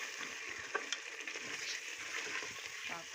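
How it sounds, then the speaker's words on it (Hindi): Potatoes frying in a pan with tomatoes added, a steady close sizzle with a few small stirring clicks throughout. "ये आलू भून रहे हैं"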